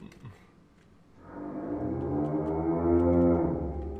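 A cow-like creature in a video game moos, a single long, deep, swelling bellow that grows louder and holds before fading, after a brief quieter start.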